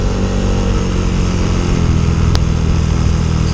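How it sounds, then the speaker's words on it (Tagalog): A Yamaha Mio i 125s scooter engine runs steadily on a road test with a worn drive belt, giving a loud, continuous mid-pitched drone that holds an even tone throughout. "hindi naman masyado mahiyaw yung makina."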